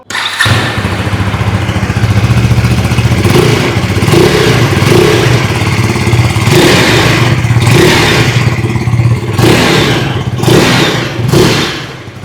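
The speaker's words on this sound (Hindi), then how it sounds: "आइए अब सुन लेते हैं इस बाइक की एग्जॉस्ट नोट।" A 2026 KTM Duke 250 single-cylinder motorcycle's exhaust note is loud and close, as a steady idle is broken by repeated sharp throttle blips that surge and fall back at intervals.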